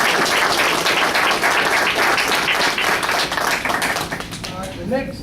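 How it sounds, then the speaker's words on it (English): Loud, sustained applause for three cadets fills a graduation and awards ceremony, continuous clapping from a crowd that gradually thins toward the end as a voice begins speaking. "Let's give these three cadets a round of applause."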